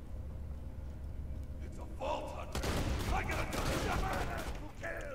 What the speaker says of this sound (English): It doesn't shoot as fast as you can pull the trigger, it has a little bit of lag.